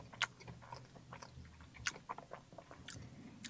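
Someone eats a McDonald's McVeggie burger up close, with a few crisp bites and soft, quiet chewing in between.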